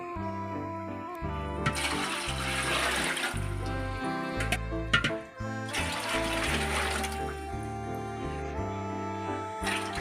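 Water pours into a pot of 1.5 cups of rice, 4.5 cups in all, for boiled rice vathal, in two long rushing bursts over steady background music.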